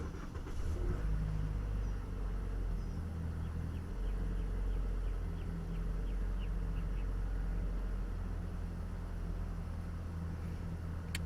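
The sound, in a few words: 2018 Toyota Camry engine starting and running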